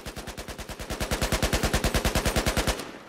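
A SAR-21 rifle firing in Battlefield 4, one sustained full-auto burst of rapid, evenly spaced loud shots lasting nearly three seconds, then an abrupt stop, with no talk.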